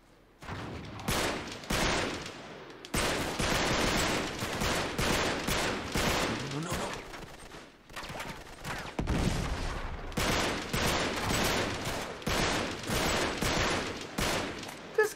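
Heavy automatic gunfire rattles through a firefight in Uncharted 3: Drake's Deception, loud, close bursts broken by short gaps, one long pause midway, then sustained volleys to the end.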